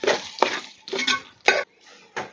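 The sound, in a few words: stirring and sautéing masala for Kerala duck curry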